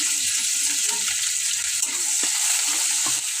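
Chopped small fish fry in hot oil in a pan, giving a steady, loud, dense sizzle that holds throughout, with a few soft knocks from stirring.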